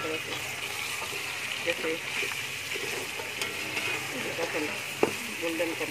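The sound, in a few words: meat from yakhni stock frying in ghee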